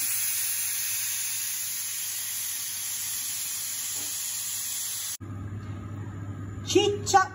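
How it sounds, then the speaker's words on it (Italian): A pressure cooker vents steam in a kitchen while turkey cooks in milk, a steady loud hiss that cuts off abruptly, followed by quieter kitchen noise and a brief clatter. "dobbiamo far sfiatare la pentola a pressione"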